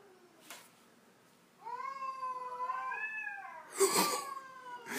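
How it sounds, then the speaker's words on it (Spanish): Cats fighting just outside, drawn-out rising and falling yowls and caterwauls that overlap at moderate distance, ending in a harsher, louder screech, with no talking. "Hay unos gatos acá atrás peleándose."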